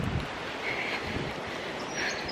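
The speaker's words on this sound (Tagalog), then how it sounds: "Snowstorm ang tawag nito." Snowstorm wind blowing outdoors near a bus stop, a steady broad roaring rush with gusty swells and wind buffeting the microphone, no talking.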